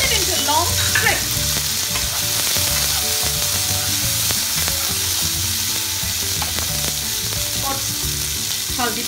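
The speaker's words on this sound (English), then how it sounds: "Let it fry. Put tomato, cut it into long strips." Tomato strips fry in a hot pan for a Tomato Paneer Rice, giving a continuous loud sizzle with scattered crackles and the occasional scrape of a spatula, close up, without any talking.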